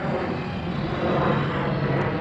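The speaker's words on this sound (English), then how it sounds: "Sorry, plane." An airplane passes overhead, a loud, steady broadband roar filling the whole moment with no speech over it.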